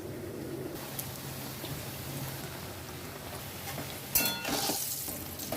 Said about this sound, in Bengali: এই বড়াগুলো ভেজে নিচ্ছি দেখতে থাকো কীভাবে করছি